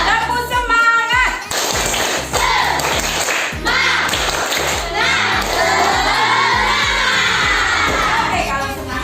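Elementary school children in a classroom do a rhythmic spirit clap, Tepuk Semangat. They clap and thump in unison with shouted chanting, a lively, steady pattern that runs close and loud throughout.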